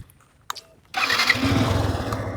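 Motorcycle engine that won't start: a short mechanical click, then a rough cranking whir that rises and holds for over a second without catching into a running idle, with no talk.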